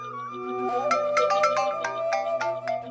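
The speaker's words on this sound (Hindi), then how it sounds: "किसका फोन आ गया?" An electronic ringtone melody plays steadily and fairly loud, bright repeating tones with no voices.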